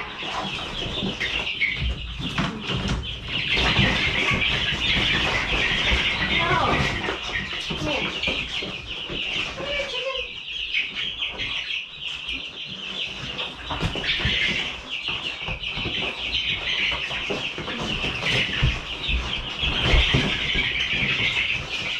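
Chickens cluck and chatter close by, with wing flaps and scuffling among a busy flock, and a voice talks briefly in the background.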